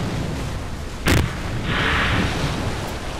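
A spacecraft crashes and blows up in the video game Kerbal Space Program, heard as one sharp, loud blast about a second in, followed by a rushing, hissy roar against a steady noisy background.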